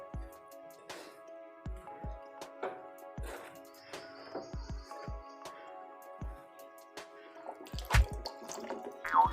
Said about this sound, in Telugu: ఇప్పుడు దీన్ని మనం కొంచెం కొంచెంగా నీళ్ళు వేస్తూ బాగా మిక్స్ చేసుకోవాలండి.